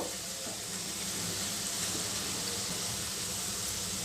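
Onion pakoda mixture frying in a pan gives a continuous, even sizzle, close and steady throughout, with a faint hiss of oil and no voices.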